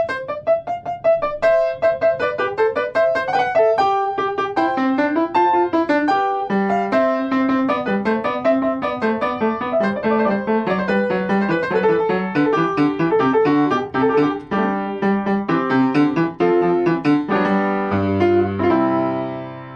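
Baroque-style keyboard piece played at an even, unchanging dynamic, busy ornamented lines and a repetitive melody running continuously with steady articulated notes, close and clear.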